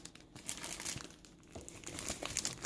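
A pack of Stampin' Up Eastern Palace Specialty Designer Series pattern paper is unwrapped close up, with dense continuous crinkling and rustling of the plastic wrapper for the whole stretch.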